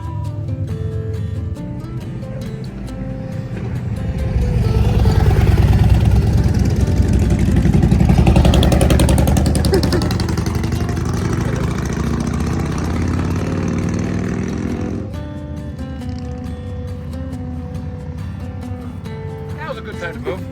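A motorcycle passing along a mountain road, its engine swelling from a steady hum to a loud roar and then fading away, heard from inside a vehicle while people talk over it.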